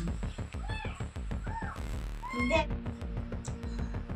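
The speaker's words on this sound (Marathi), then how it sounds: "हे मांजर पाळायचे काही काम नाही" A house cat meows repeatedly inside a village home, several short rising-falling cries in quick succession at close range, with a voice talking faintly underneath.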